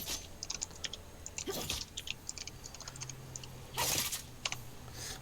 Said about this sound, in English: We can hear someone typing in the Discord.